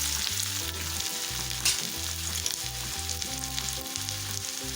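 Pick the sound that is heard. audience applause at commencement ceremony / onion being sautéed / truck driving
onion being sautéed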